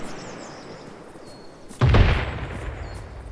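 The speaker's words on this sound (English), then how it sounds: "That sounded like mortars." A sudden low mortar impact booms out in ArmA 3, a single heavy thump that rolls off into a fading rumble after a quiet stretch, fairly loud and alone without talk.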